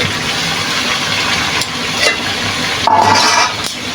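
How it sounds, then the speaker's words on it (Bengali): Chicken curry with pre-fried potatoes being stirred and fried in a pan: a continuous sizzle with scraping stirring noises, fairly loud and steady throughout. "এখন আমি ভালো করে নাড়াচাড়া করে কষিয়ে নেব"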